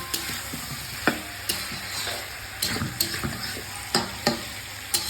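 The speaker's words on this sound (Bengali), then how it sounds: "এটাও একসঙ্গে মাংসের সঙ্গে আলুটাও কষা হয়ে যাবে ভালোভাবে" Meat and potatoes browning together in a pan, a constant close sizzle broken by quick spatula scrapes and clinks against the metal as the mixture is stirred, with no talk.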